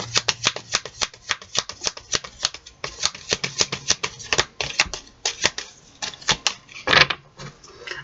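Oracle du Muséum oracle cards being shuffled by hand, a steady run of crisp riffling flicks and slaps in a quick, uneven rhythm, close and dry.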